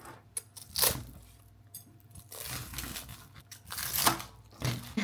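Someone chews crunchy food up close outdoors, several crisp crunching bursts spaced irregularly over a few seconds with soft rustling between.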